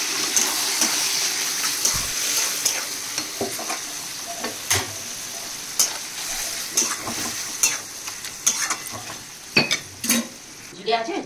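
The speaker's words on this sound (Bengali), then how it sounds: "ভালো করে ভালো করে নেড়ে নিয়ে এবার ওই বাটা মশলাটা দেবো।" Chicken coated in ground spice paste is stirred in a hot pan, giving a steady sizzle broken by repeated scraping and clacking strokes of the spoon. No voices are heard.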